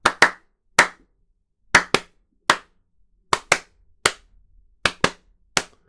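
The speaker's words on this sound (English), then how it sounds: "I put them on and I can clap." A person claps their hands a dozen times in irregular pairs and singles, each sharp clap loud and close with silence between.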